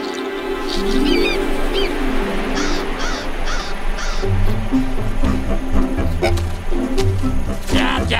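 Crows caw repeatedly in a French Yakari cartoon, loud harsh calls rising over busy music and scene sounds, without speech.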